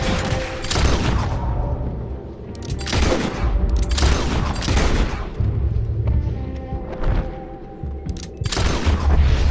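Gunfire in Red Dead Redemption 2: heavy, booming shots fire irregularly through a continuous loud battle din, with several sharp blasts standing out near and loud.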